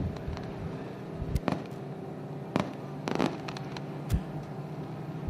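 Fireworks burst over victory lane at a race track during a memorial race, with several sharp pops and cracks at scattered intervals over a steady low rumble of crowd and engines.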